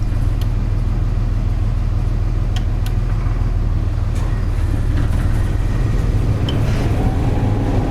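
The power unit on a 2004 Freightliner utility mechanic truck runs at a steady idle, a loud, constant low engine rumble nearby with a few faint clicks and no talking.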